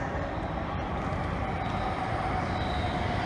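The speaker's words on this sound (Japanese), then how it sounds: "電車到着です" A Tohoku Shinkansen train arrives at Omiya Station, rumbling steadily close by, with a continuous roar of wheels on rails and a faint metallic squeal.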